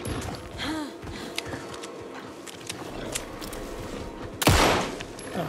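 Scattered gunshots fired in the Alan Wake 2 game, a few sharp cracks spread over a few seconds among ambient game noise, ending in a louder burst.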